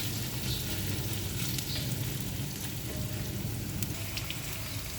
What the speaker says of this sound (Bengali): আলুটা আমার পুরাপুরি ভাজা হয়ে গেল